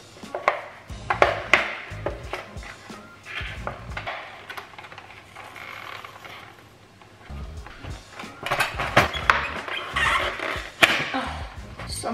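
Plastic cutlery packaging is torn and pried open by hand without scissors, giving bursts of crinkling, snapping and clattering between quieter pauses.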